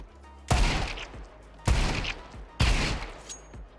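Three bursts of automatic gunfire in Counter-Strike 2, each a sharp loud onset followed by a rapid rattling tail that decays before the next burst.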